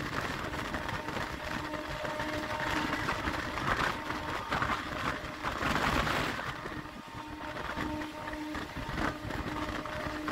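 A Santipur–Sealdah local train runs on a galloping service between Sealdah and Barrackpore, giving a continuous loud rumble and rattling drone heard from on board, steady for about ten seconds with no speech.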